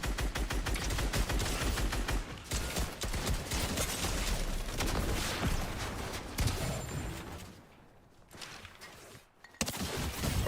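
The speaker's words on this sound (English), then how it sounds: "that was two people shooting me at once" Rapid video-game gunfire from two players shooting at once rattles in a dense, continuous stream of cracks, then thins out and drops to a quieter lull before a final burst.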